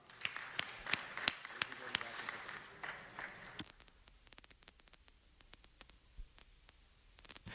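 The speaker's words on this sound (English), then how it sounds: "another round of applause" Applause in a city council chamber, scattered clapping that fades after a few seconds into sparse individual claps over low room hum and faint static.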